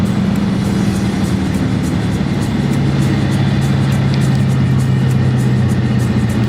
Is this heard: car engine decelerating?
yes